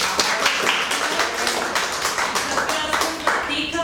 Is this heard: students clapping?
yes